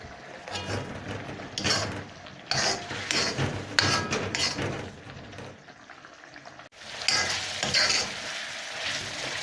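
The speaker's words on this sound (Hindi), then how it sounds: "हाई फ्लेम पर मटन को भूनते हुए 15 मिनट हो गए हैं" Mutton karahi fries on a high flame: a constant close sizzle with repeated bursts of a utensil stirring and scraping the pan, and a brief pause before the stirring resumes.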